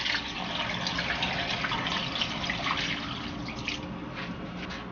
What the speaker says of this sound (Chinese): 加适量清水，